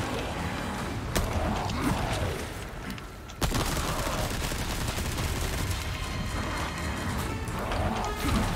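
Gunfire in the Resident Evil 4 Remake game crackles over a dense, constant wash of in-game noise, with a sharp loud crack near the middle and several fainter shots scattered around it.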